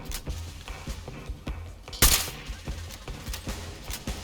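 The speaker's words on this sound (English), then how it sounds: "So from here, I just kept doing headshot after headshot with the sniper rifle." Sniper rifle fire in the video game Fallout: London: one sharp, loud shot stands out among quieter, scattered pops and clicks from the game, fairly faint overall.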